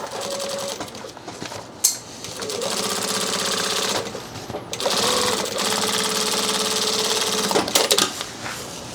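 A sewing machine tacks a side panel onto a backpack, running in steady, even rattling stitch runs broken by short pauses, close and loud.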